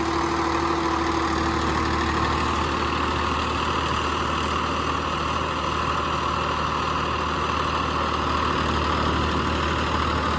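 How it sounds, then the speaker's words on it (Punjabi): Swaraj 969 tractor engine running steadily at 1500 rpm with no load, a loud, continuous diesel drone with a constant low hum and no change in pitch, close by and without voices. "ਲਓ ਜੀ ਟਰੈਕਟਰ ਤੇ ਜਮਾ ਹੀ ਲੋਡ ਨਹੀਂ ਹੈਗਾ"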